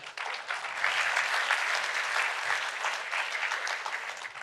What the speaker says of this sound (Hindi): तो तारीफ के लिए एक बार सबसे ताली बजवा दीजिए।